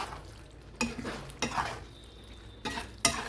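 Hand-rolled pasta is tossed through gravy in a pan, with several distinct scraping, clattering strokes of a utensil against the metal, spaced irregularly over a faint background sizzle.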